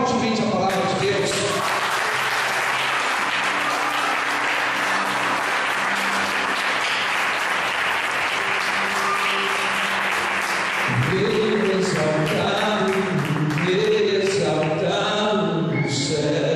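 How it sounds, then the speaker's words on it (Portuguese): A church congregation applauds loudly and steadily for about sixteen seconds over sustained musical accompaniment, with voices rising in song toward the end. "Você pode aplaudir fortemente a palavra de Deus."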